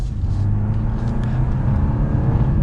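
A 2022 BMW 530i accelerates, a steady low engine hum and road rumble heard from inside the cabin, moderately loud and continuous with no talk.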